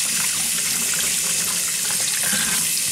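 Tap water runs into a sink while squid are rinsed clean, a loud, steady close splashing hiss with faint handling sounds underneath.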